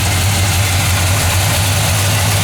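A 1969 Chevelle with a 350 V8, headers and a 4-barrel carburetor idling close by, a loud, steady low rumble that stays even throughout.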